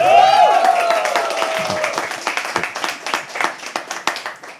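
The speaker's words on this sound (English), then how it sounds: "Keep clapping. Keep cheering like they're your best friend." Audience at a live poetry open mic clapping and cheering, a loud burst of applause with whoops at the start settling into steady, close clapping that runs throughout.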